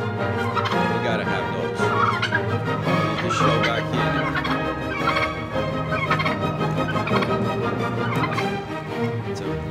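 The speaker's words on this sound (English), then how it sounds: "Red jungle chickens." Red junglefowl calling among a collection of birds, repeated crowing and gobbling calls overlapping in a dense, continuous chorus, fairly loud and close.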